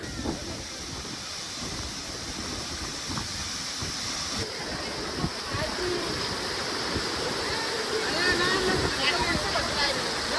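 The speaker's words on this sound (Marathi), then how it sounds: "फायनली आम्ही आलेलो आहे रिंग वॉटरफॉलच्या इथं" Ring Waterfall at Tamhini Ghat roars as a constant broadband rush of falling water, steady and fairly close, with people talking over it.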